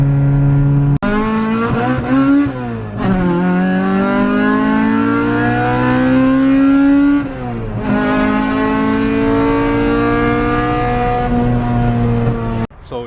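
A Honda EK Civic with a motor-swapped, naturally aspirated LS VTEC engine revs hard through gears, rising pitch sweeps broken by two short shift dips, loud and close from a ride along.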